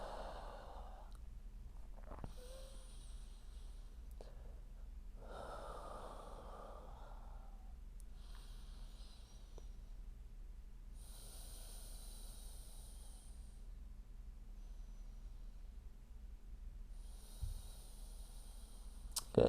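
Slow, deep breaths during a deep yoga stretch come as several long, soft airy inhales and exhales spaced evenly apart, quiet and close, with no talk.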